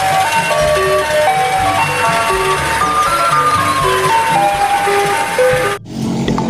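A toy ice cream truck plays its tinkly electronic jingle, a bright repeating melody of short notes heard close, which cuts off abruptly near the end.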